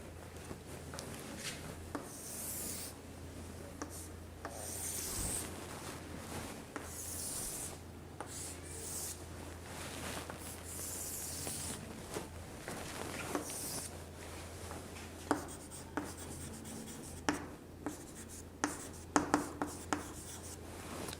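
Marker or chalk scratching and rubbing on a classroom board while a table is drawn during an English grammar lesson, a long run of faint strokes over low background hum, ending with a few sharper taps.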